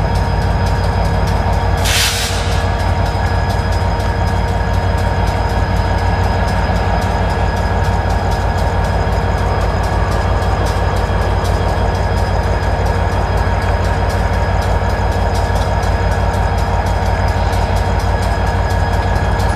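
Loud, continuous low rumble of an idling CSX or Amtrak train engine in central Florida, steady throughout with a steady hum and one brief hiss near the start.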